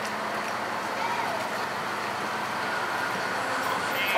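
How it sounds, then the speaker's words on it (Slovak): A RegioJet passenger train stands at a station platform in Bratislava Nové Mesto, giving off a steady, moderately loud broadband rumble and hiss with faint high-pitched tones near its end. "Osobný vlak spoločnosti RegioJet."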